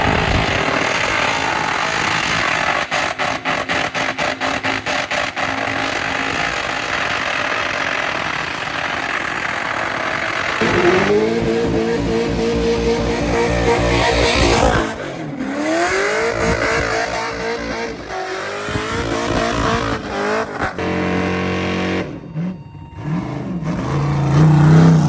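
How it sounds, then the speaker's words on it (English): A V8 car doing a burnout at LS Fest Texas, a loud, sustained engine roar at full throttle with harsh revving surges and gritty tire scrub throughout, dropping briefly near the end before roaring again. "we're gonna rip a little burnout for y'all."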